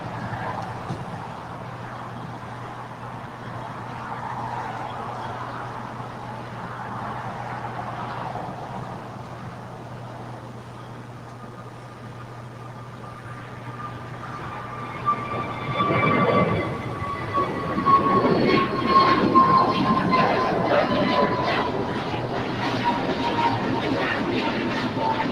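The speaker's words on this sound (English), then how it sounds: "We have an Alaska A321neo taking off on 25 right." An Alaska Airbus A321neo takes off at LAX, its engines building from a distant low rumble into a louder roar and high whine that swells and holds.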